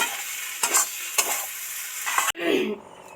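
Potato-filled samosa stuffing stirred in a pan with garam masala, a few scraping strokes over a steady sizzle, then a brief pause and a louder scrape near the end; close and alone, no voices.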